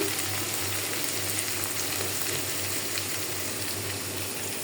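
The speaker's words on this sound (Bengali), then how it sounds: "এখন আমি মশলাটা একটু কষায় নিই" Garlic, turmeric and chili powder frying in oil in a pan give a steady, close sizzle with a faint low hum underneath, continuous with no talking.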